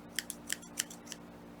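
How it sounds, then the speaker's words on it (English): A few small, crisp snips and pokes of scissors working paper on a paper craft, heard close and quiet, irregularly spaced and with no talk. "so I'm just going to use my scissors"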